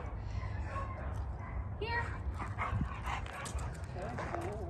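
An XL American Bully dog barking and yipping in short, faint bursts and a whimper, set against steady background noise and talk.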